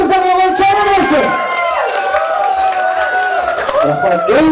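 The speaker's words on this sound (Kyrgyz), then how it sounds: "Эң жакшы мыкты аткарган Абдуали мырзага кол чабуулар болсун" Loud crowd cheering and clapping fills a Kyrgyz stage show, sustained and dense, while a host's amplified voice and music carry over the top throughout.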